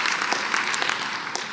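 An audience applauds a regional coordinator at a state history competition awards ceremony, giving a dense, steady wash of many hands clapping at close range with no voices over it.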